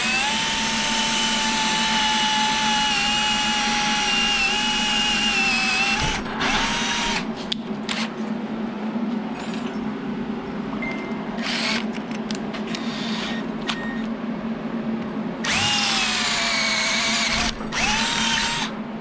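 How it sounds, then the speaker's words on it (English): A handheld power drill bores a hole through a Honda CRX sideskirt bracket, whining steadily with pitch dips as the bit bites, then stopping and restarting in short bursts near the end. "gonna drill a hole right in that"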